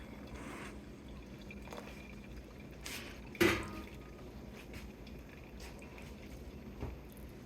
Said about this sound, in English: I pour from up high to stir up the coffee as the water enters.